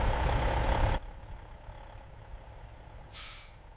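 A truck loaded with bright red tomatoes arriving at a processing plant, its air brakes releasing a long loud hiss over engine rumble that cuts off abruptly, then a shorter, fainter hiss a couple of seconds later.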